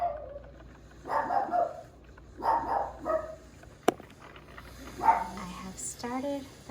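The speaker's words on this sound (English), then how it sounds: "I'm gonna go see what she's barking at again." A dog barks in short bursts from a room away in a home kitchen, several separated bark clusters and a few yips at moderate distance, with a sharp knock between them.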